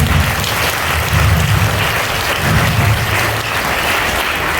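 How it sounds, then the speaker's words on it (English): Loud, sustained applause from an audience at a school Teachers' Day celebration after a performance by nursery to class 1 children, dense clapping with a low rumbling undertone. "give them a huge round of applause"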